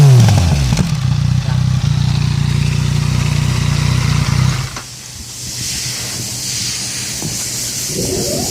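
A 2017 Yamaha MT-09 motorcycle engine running close by, a low steady throb for several seconds that then drops off, leaving a fainter, hissy mechanical hum.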